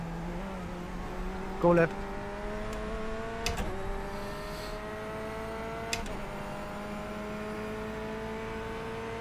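Race cars in an IMSA sports-car racing video game, with Corvette C8.R and BMW GTE cars and a slow blue LMP nearby, give a steady engine drone with rising and falling pitch and a few brief shifts, heard under radio talk.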